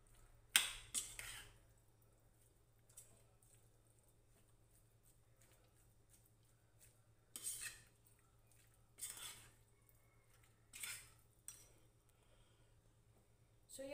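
Igado being stirred in a pan: sparse, faint metallic clinks and scrapes of a utensil against the pan, spaced irregularly over a quiet low hum.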